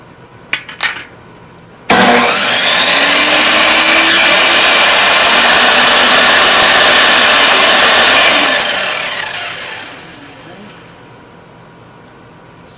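A power saw spins up and bites into a wooden stair stringer, cutting notches with a loud, sustained rasping whine for several seconds before the blade spins down and fades; a few brief knocks come before the cut.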